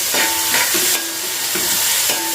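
Onions and curry leaves fry in a pan, a loud, steady sizzle close up, broken by rhythmic squeaky scrapes of a spoon stirring every half second or so, with no voices.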